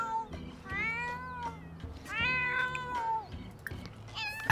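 A cat in The Sims 4 meows several times in drawn-out, whiny calls, clear and close over faint game background sounds.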